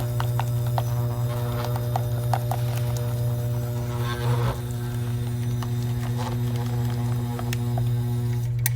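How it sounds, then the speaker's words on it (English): A dental plaster vibrator hums with a steady low mains-like drone throughout, overlaid by light tapping and clicking of plaster work on its surface. "be sure to mix the plaster over the vibrator"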